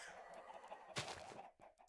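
Blocky game chickens cluck in a Minecraft farm scene beside a small coop, a few short clucks over steady ambient background with one brighter burst near the middle, no talking.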